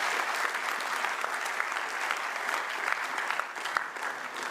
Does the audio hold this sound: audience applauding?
yes